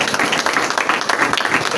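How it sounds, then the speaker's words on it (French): An audience at an awards evening claps in a loud, dense burst, a short stretch of continuous applause with a faint murmur of voices underneath. "Applaudissez d'abord."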